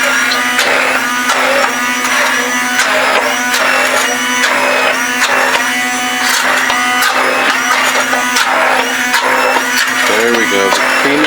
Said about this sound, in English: Once again, it's the NutriBullet immersion blender. And I think we're just going to go on high speed first.